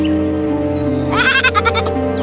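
A goat standing at a doorway lets out a single loud, wavering bleat with a few pulsing stutters, heard close and alone over a steady background drone in a storytelling cartoon setting.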